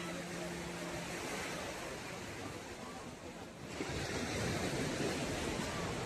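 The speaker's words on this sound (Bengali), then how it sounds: "দেখো ঢেউগুলো দেখো।" Sea waves break on Digha beach in a steady wash of surf with wind across the microphone, growing louder and fuller near the end, and a person briefly speaks under the roar.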